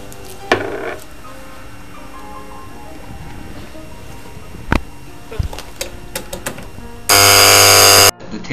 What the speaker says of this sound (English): The ticker timer produces 50 dots every second.